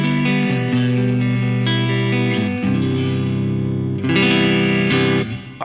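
Electric guitar through the Safari Pedals Rabbit Tape saturation plugin with less compression, sustained warm saturated chords with a wavering modulated shimmer, played alone and ringing out in a few changes.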